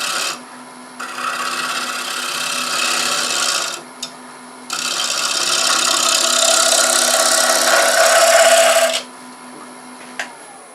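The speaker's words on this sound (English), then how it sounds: "you can clean up some of those tool marks easily with a scraper that you'd struggle with sometimes with the bowl gouge" A scraper rasps steadily across a dry wooden bowl spinning on a lathe, a loud close scraping in two long passes with a brief lift between them, over the lathe's motor hum.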